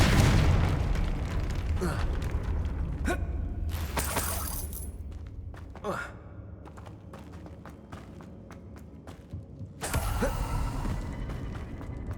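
Hogwarts Legacy gameplay with a Confringo fire spell: several sharp bursts and booming blasts, one near the start and another late, ring out over a busy layer of game effects, at moderate level, with no commentary.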